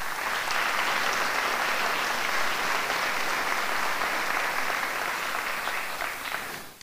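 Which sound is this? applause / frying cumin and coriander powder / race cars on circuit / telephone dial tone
applause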